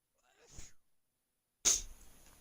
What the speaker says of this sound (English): Ooh, here comes another sneeze.